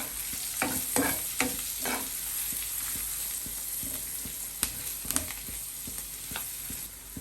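Chicken being mixed by hand with pepper powder, garam masala and salt, making a steady wet stirring and squelching sound close by, with no one speaking.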